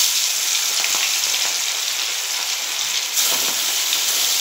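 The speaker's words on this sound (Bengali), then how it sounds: "এবার আমি মাছগুলো ভেজে নেব" Fish frying in hot oil in a kadai wok makes a loud, continuous crackling sizzle like heavy rain, close and steady the whole time with no voices.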